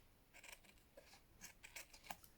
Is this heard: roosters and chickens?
no